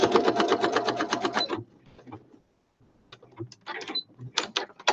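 A sewing machine runs a straight stitch in a steady, rapid mechanical burst, then stops; quieter handling noises and small clicks follow close by.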